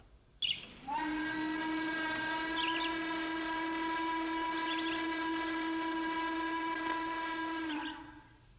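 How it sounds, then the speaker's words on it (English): A 1960s salt company steam whistle blows one long, sustained, loud note for about seven seconds after a brief thump, then tapers off. "Now that is an actual recording of the salt company whistle from the 1960s."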